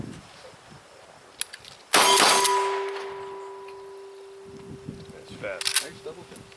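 Shotgun action racked briskly: a sharp metallic clack followed by a ringing metal tone that slowly fades, with quieter handling clicks before and after and faint talk in the background.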